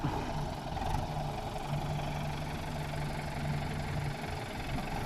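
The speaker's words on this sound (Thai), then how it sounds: "รถไถดึงแล้ว" A tractor engine drones steadily at a low pitch while pulling a car stuck in mud at a reservoir, a continuous even rumble with no voices.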